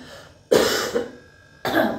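Two short, harsh coughs, close by, separated by about a second of quiet room noise.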